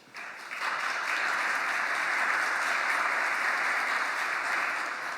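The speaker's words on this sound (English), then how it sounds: "I'd ask for a big round of applause to all our speakers" Applause from a session audience for the speakers, a steady continuous patter of many hands that starts abruptly and holds at an even, moderate level to the end.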